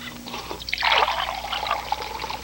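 White cranberry juice spills and splashes in a short liquid trickle and pour, close and fairly loud, with no talk over it.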